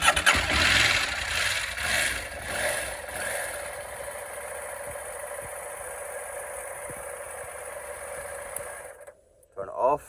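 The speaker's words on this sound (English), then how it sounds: "So the bike will now start." A KTM motorcycle engine starts and settles into a steady mid-pitched idle for several seconds before cutting off abruptly near the end.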